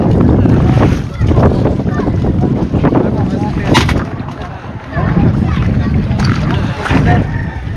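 Boat engine running on open water, a loud rough rumble mixed with heavy wind buffeting and splashing, continuous with brief dips, while people shout and talk over it.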